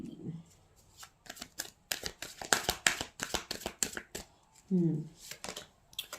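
Tarot cards being shuffled and drawn, a quick run of crisp riffling snaps and flicks, close and fairly quiet, with a voice speaking briefly at the start and again near the end.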